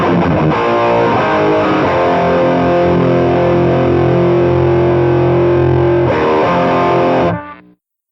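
Heavily distorted electric guitar chords through a Soldano overdrive pedal, set for hair metal tones, ring out loud and sustained, a new chord struck near the end before the sound cuts off.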